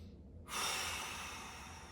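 Two deep, steady breaths taken while holding a bridge in a mobility and decompression breathing routine, with a sudden broad whoosh of air starting about halfway through and held close and fairly loud to the end.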